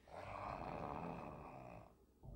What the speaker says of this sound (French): Même avec la porte fermée, on entend ronfler cette connasse.